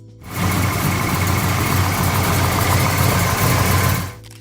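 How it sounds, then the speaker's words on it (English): A Chevrolet 454 cubic inch Rat Motor big-block V8 runs with a loud, steady, dense rumble that fades in quickly, holds evenly for about four seconds, then cuts off. "Chevrolet 454 Cubic Inch Rat Motor V8."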